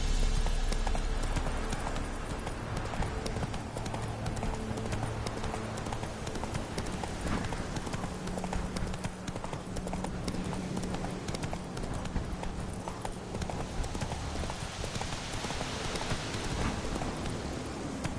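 Roach, Geralt's horse in The Witcher 3, gallops with a steady, rapid clip-clop of hooves close by, running continuously over a faint background hum with no voices.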